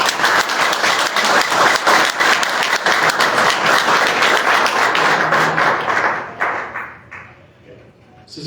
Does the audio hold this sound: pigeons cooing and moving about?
no